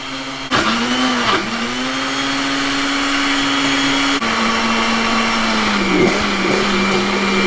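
A blender whirs steadily while blending a raspberry peach White Claw slushie, its motor drone holding a constant pitch that dips slightly as the load shifts, loud and close with no talking.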